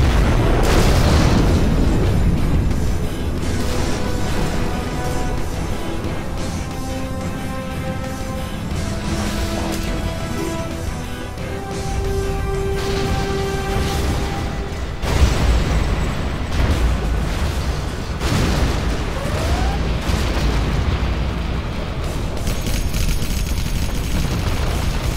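Heavy booms and rumbling explosions from a Scud Storm missile strike roll on and on in Command & Conquer: Generals – Zero Hour, with tonal game music and effects layered over the continuous blasts.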